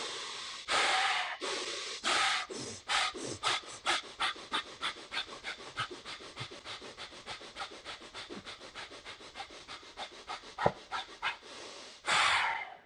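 Rapid, forceful pranayama breathing strokes, a steady run of about thirty sharp rhythmic breaths that quicken after a few slower opening ones, ending in a longer deep inhale, close and alone without talk.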